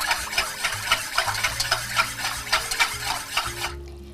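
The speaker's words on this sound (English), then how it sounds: "we're just going to whisk our wet ingredients quickly" Wet crumpet batter with vanilla essence being whisked quickly in a bowl, a steady run of rhythmic scraping beats close up that stop abruptly near the end.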